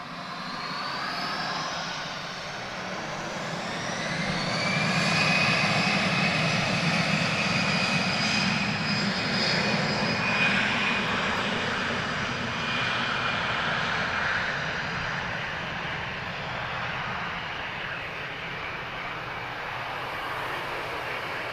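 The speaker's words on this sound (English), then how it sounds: "KLM wasn't on the ground for very long. He's already ready to take off." KLM airliner engines at Lisbon Airport as the jet prepares for takeoff, a steady distant roar and whine that swells around the middle and then holds, with no voices.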